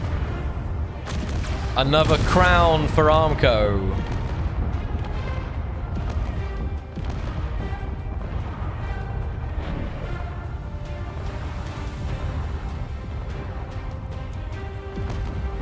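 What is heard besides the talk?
explosions and weapon fire in Space Engineers video game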